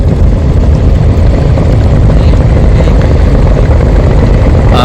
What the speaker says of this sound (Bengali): অ্যাডভেঞ্চার এক লঞ্চও ব্যাক গিয়ার দিছে